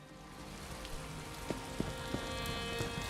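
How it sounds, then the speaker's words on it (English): Steady rain falling in the Elder Scrolls Online video game, a dense continuous hiss of drops with a few louder patters landing nearby. "I could do without this damnable rain."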